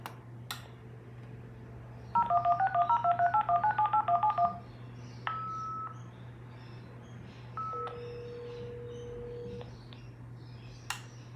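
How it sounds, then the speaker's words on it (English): A Banksia Wave SP 336 modem dials a long phone number, a rapid run of touch-tone beeps followed by a few separate longer tones, over a faint steady hum. "It's a dialer up."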